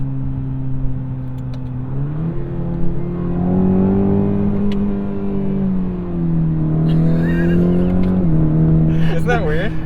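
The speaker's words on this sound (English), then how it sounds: "Hit the rev limiter and then try to shift." A 2023 Cadillac CT4 engine held at the rev limiter in sport mode gives a loud, sustained droning note that wavers and steps in pitch, with brief talk over it near the end.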